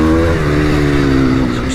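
A motocross motorcycle engine revs loud and close, a steady buzzing drone that holds through a gear change into second.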